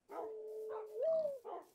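Dogs from the Mo'Creatures mod for Minecraft give a few close, clear barks and whimpering yips in a short run with no talk over them.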